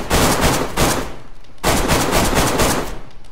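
Two loud bursts of rapid gunshots in the survival game DayZ, close and dense, with a short break between them.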